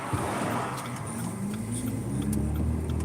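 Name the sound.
car driving past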